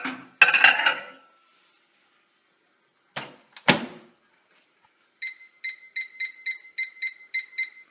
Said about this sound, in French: On met au micro-ondes.